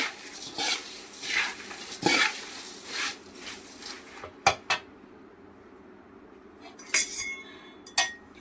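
A utensil stirring and scraping puffed rice around a metal pan, with irregular clinks and rustles that thin out into sparse taps. Nobody speaks.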